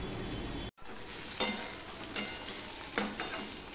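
Chopped onion and taro pieces fry in oil in a pan with green chillies nearby, a steady close sizzle broken by a few louder bursts of crackling as they are stirred.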